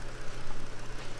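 The 3.6-liter V6 of a 2020 Chrysler Pacifica Touring runs at idle, a low even hum with a faint pulsing beneath broadband hiss, heard close and alone.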